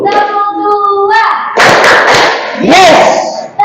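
A classroom of students claps together in a brief broadband burst of hand claps following a teacher's spoken cue, with a voice calling out afterward.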